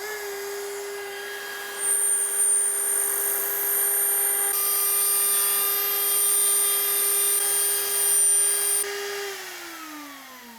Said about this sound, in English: We can just clamp our trim router down to the table and go with it.